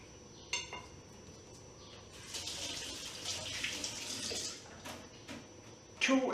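Water runs from a kitchen tap for a few seconds as tepid water is drawn for bread dough, a steady hiss with a few clinks before and after.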